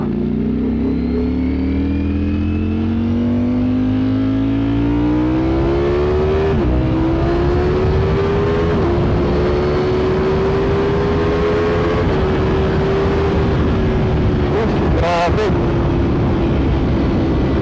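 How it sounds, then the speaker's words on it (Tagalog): Ducati Streetfighter V4S 2022 motorcycle accelerating hard, a loud engine roar climbing steadily in pitch through successive gear changes, close and sustained, with brief wind buffeting near the end. "Grabe itong bike na to. Lakas ng hatak."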